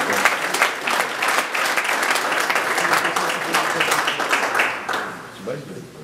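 Applause at a Raków football club press conference, a loud, dense burst of clapping from a crowd that fades near the end, with a voice underneath.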